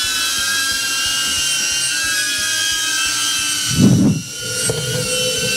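A DJI Avata FPV drone flies with its motors giving a steady high buzzing whine, and a brief louder whoosh swells and fades near the end.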